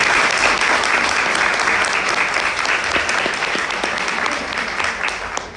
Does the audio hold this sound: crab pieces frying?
no